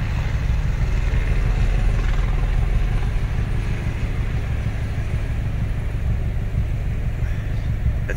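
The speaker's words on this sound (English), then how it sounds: "excuse hearing the chopper, guys" A helicopter circles overhead in a Los Angeles neighborhood, a steady low droning rumble that stays constant and moderately loud throughout, blended with outdoor wind noise.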